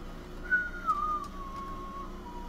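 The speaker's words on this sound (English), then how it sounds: "I like to whistle, but I suck at it." A person whistles a single wavering tone that slides slowly downward, thin and unsteady, close and clear over a quiet background hum.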